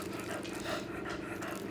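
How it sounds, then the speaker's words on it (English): A dog pants steadily at close range, a continuous rapid breathy rhythm with a faint rattle of play in the background and no talk. "you could probably hear him panting."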